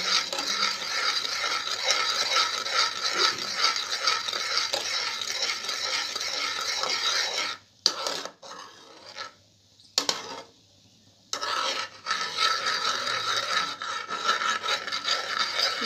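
A sweet kheer-like mixture is stirred without stopping in a pan in a village kitchen, making a continuous rasping scrape that breaks off briefly twice midway before resuming.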